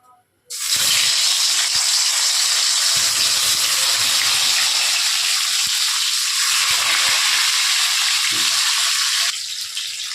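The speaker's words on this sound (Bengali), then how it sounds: "তেল গরম হয়ে গেছে, এখন আমি মাছগুলো ভেজে নেব।" Loud, steady sizzling of fish frying in hot mustard oil, a continuous crackling hiss that starts abruptly and runs throughout with no talking.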